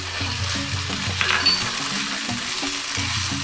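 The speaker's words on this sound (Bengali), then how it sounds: "আলুটা আগে আমি 2 মিনিট নাড়াচাড়া করে নিচ্ছি" Potatoes fry in hot oil with ginger paste in a pan, giving a steady close sizzle broken by rhythmic scraping and stirring with a spatula against the pan.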